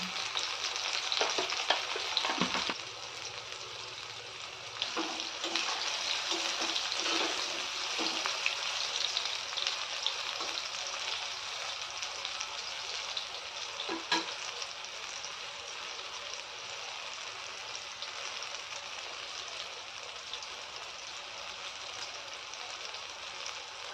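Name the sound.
frying small shrimp pieces in pan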